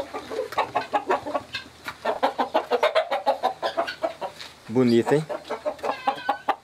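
Bantam chickens and roosters on a Brazilian farm cluck in quick repeated bursts, with a louder crow near the middle, while someone speaks over them.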